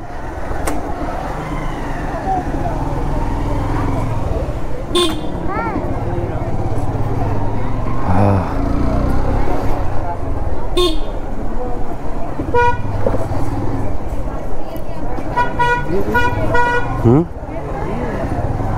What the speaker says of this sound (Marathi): अरे कशाला हॉर्न वाजवतो यार.